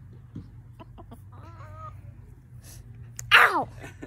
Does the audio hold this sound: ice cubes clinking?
no